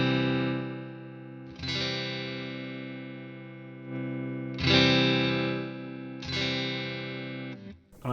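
A Squier Stratocaster electric guitar with its volume rolled down and a treble bleed fitted, strummed chords ringing out bright and sustained, four strums decaying one after another with no talk.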